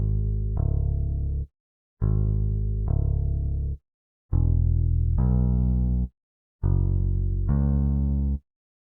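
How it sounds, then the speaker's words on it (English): A bass guitar sound from the Forefront Bass plugin plays four phrases of two plucked low notes each, separated by short silences, bright attacks over a deep warm body, heard alone. "I added another bass from Forefront Bass, which is also a bass guitar"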